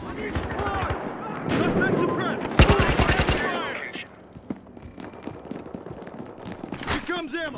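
Rapid bursts of automatic gunfire from the ARM gun in Battlefield Hardline ring out loud and close, followed by scattered single shots, with voices talking over the action.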